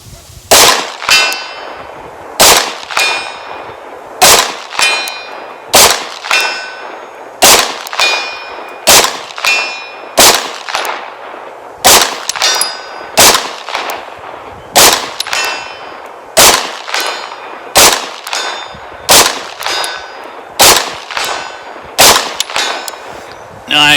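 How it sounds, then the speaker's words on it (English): Pistol fired at steel targets 100 yards away, a steady series of sharp, loud shots about every second or two, each followed by a ringing metallic clang as steel is struck. "one of the things I like to do for testing accuracy and manageability with a pistol is shoot it at 100 yards."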